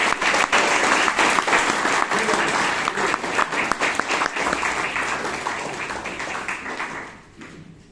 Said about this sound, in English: I think he deserves an applause.